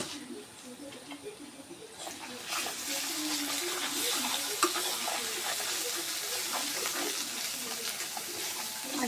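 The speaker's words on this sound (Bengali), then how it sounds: "আর সামান্য একটু পানি দিয়ে আগে আমরা মশলাটা ভালো করে কষিয়ে নেব" Spice paste with turmeric, chili and coriander powder sizzling in oil in a pan after a splash of water is added, with steady frying crackle and stirring throughout, louder after the first two seconds.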